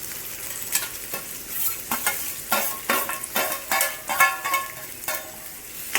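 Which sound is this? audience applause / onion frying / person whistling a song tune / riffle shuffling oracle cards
onion frying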